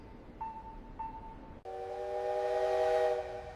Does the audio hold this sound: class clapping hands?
no